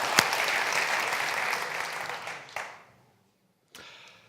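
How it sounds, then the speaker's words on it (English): A conference audience at a CSS Day design event applauds the organisers at the end of a first day, a dense wash of clapping that fades out, followed by a short silence and a brief burst of noise. "I'd just like to suggest we give them a big round of applause for a first amazing day"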